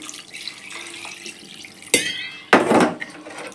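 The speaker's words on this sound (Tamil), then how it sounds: "தேவையான அளவு தண்ணி ஊற்றி உப்பு போடணும்" Water is poured into a cooking pot while country chicken curry is being made, giving two short, loud splashing bursts near the microphone with a faint kitchen clatter between them.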